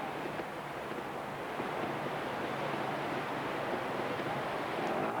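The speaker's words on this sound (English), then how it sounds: "the water's quite fast moving and quite deep as well" Fast, deep river water rushes steadily at a trials motorcycle event in Vielha, Spain, a broad continuous hiss and wash without breaks, fairly faint with some wind noise.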